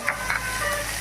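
Pointed gourd, potato and shrimp fry in hot oil in a pan, a steady close sizzle with a few stirring scrapes over about a second.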